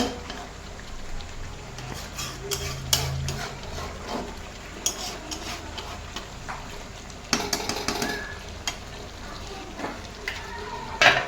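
Yogurt chicken curry is stirred in a pan. A low simmering sizzle runs under scattered scrapes and clinks of a utensil against the pan, and these sounds come in small clusters at a moderate distance.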